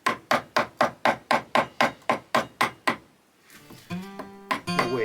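A chisel driven by repeated mallet strikes chops waste wood from a bowtie inlay recess, about a dozen sharp, evenly spaced knocks close up, followed by quieter rubbing and a short ringing tone.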